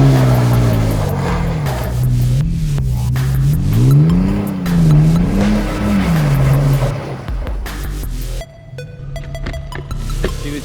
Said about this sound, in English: my nephew's learning how to drift